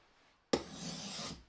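A fleshing knife is drawn once across a sharpening stone under firm pressure, a sudden gritty rasp that starts sharply after a brief quiet and holds for nearly a second before stopping, close and clear.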